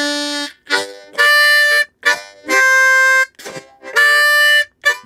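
A blues harmonica played with tongue-blocking, alternating ghosted chords on blow 4 and draw 4: loud, sustained reedy chords in a steady rhythm with short breathy gaps, played alone.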